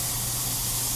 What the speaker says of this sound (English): Throw a little air over it.